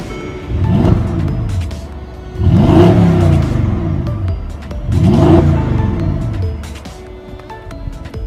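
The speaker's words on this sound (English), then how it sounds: "Very nice exhaust sound." A Mercedes-AMG GLE63 S Coupe sounds off in three loud, rising exhaust revs spaced a couple of seconds apart, each swelling from a deep rumble and falling back to a steady idle.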